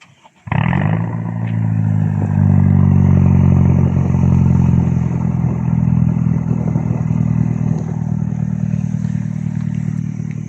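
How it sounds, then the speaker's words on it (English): A Toyota Starlet Glanza V fires up from cold with a sharp catch, then settles into a loud, steady, close-up idle with a rich, rumbling exhaust note that holds for about ten seconds. "So now it's time for a quick, cheeky cold start, and let's hear it."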